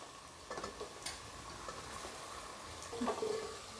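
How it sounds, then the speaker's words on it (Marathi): Bell pepper tipped into a pan of vegetables sautéing for Maharashtrian masale bhat, with a clatter of pieces landing and stirring, then a second louder scrape and sizzle near the end over a steady low frying hiss. "आता ढोबळी मिरची घालून घेऊया."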